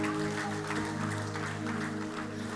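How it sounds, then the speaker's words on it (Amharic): Continuous dense clapping from a church congregation, loud and close, with a steady organ or keyboard chord sustained underneath and no clear talk. "እስቲ አጨብጭቡ ባካችሁ።"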